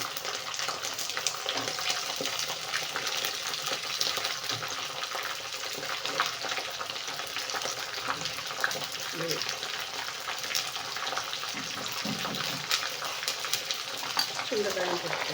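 Onions fry in a pan, giving a steady, close sizzling hiss with light stirring scrapes throughout, and a faint voice may sit underneath.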